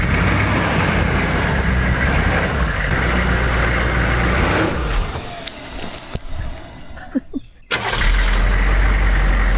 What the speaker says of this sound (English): We're gonna take this baby for a test drive.